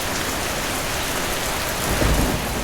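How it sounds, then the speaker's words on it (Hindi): Heavy rain pours in a thunderstorm over a village, a loud unbroken roar with a deep rumble of thunder swelling near the end, no voices present. "बारिश अब तूफान का रूप ले चुकी थी।"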